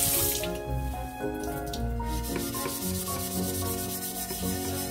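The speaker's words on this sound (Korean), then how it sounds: "다목적 클리너를 바른 부분은 수세미로 문질러요." A scouring pad rubbing a multipurpose cleaner over a stainless steel pot or kitchen surface, producing repeated close scrubbing and squeaky rubbing strokes in a continuous rhythm, with no voices.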